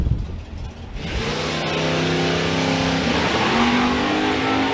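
A drag racing car launches down the strip at Santa Pod Raceway during the summer nationals, its engine roaring loud and close as it revs and pulls away, a sustained harsh drone holding steady to the end.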